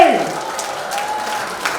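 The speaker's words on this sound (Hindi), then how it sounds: "जोरदार तालियों बजती रहनी चाहिए." An audience at a college event applauds loudly for a beauty pageant runner-up, a dense wash of clapping that carries on steadily under a fading tone.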